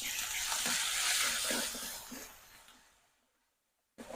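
Chopped onions frying in a pan with ginger-garlic paste added, a bright steady sizzle with soft stirring knocks that fades away to silence, then a sudden burst of sizzling returns at the very end.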